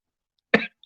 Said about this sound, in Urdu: میری ساری کھانسی باہر آ گئی میری